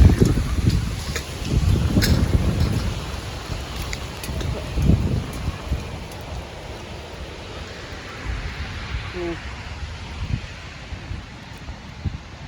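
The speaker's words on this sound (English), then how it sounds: "I apologize for the wind. That just kind of came up out of nowhere." Strong gusty wind sweeps through a garden and surrounding trees, a loud continuous roar with rustling bursts and microphone buffeting, strongest early on, alone without talk.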